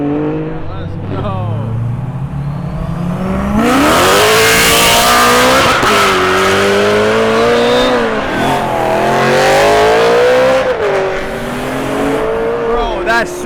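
A loud supercharged BMW M3 engine revs hard, its pitch climbing and falling in repeated sweeps with supercharger whine, up close at a private car meet.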